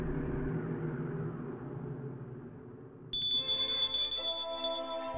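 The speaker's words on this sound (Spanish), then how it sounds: "sonó la campana para el té de las 5" A bell rings for five o'clock tea, a bright ringing chime with repeated strikes that enters abruptly over a low, dim background partway through and keeps sounding to the end.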